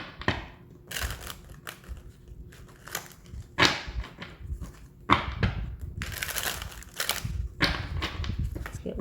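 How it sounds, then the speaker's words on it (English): Tarot cards shuffled by hand, close up, in a series of quick papery riffling and slapping bursts with brief pauses between them. "Let's get one more good shuffle."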